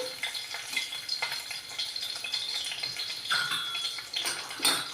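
Garlic cloves fry in hot oil, giving a soft, steady sizzle with crackles and small pops. The sound is close and fairly quiet, and no one talks.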